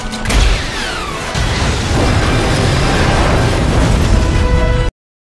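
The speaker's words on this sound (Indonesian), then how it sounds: "Z bertugas mengisi peluru, sedangkan Kara yang menembak." A loud sharp blast opens, followed by a second burst and a long roaring, crackling explosion that rumbles on before cutting off abruptly.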